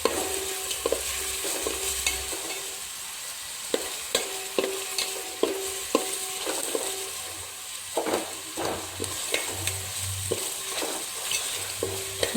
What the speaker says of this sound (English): And try to mix everything together, all the spices, the curry leaves.